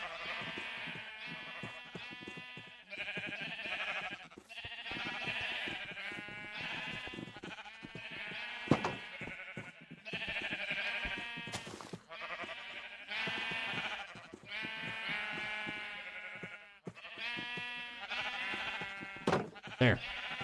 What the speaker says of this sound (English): There's a bunch of white sheep everywhere here.